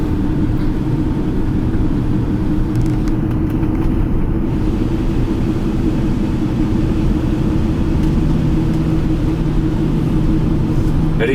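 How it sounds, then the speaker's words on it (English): Steady, close road rumble from cars driving on a scenic highway near Multnomah Falls, a continuous low drone with no clear pass-bys and no talk. "Now we've got 3 cars right behind us."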